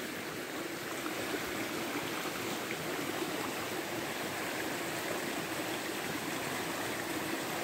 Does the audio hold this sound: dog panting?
no